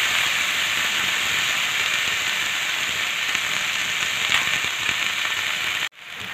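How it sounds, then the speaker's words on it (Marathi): Chopped green tomatoes sizzle on a hot griddle pan with a loud, steady, bright hiss that continues for several seconds before abruptly cutting out and resuming slightly quieter. "आता त्याच तव्यामध्ये चिरून घेतलेले टोमॅटो घालून घ्यायचे आहे. टोमॅटो चांगला आपल्याला मऊ होईपर्यंत परतून घ्यायचा आहे."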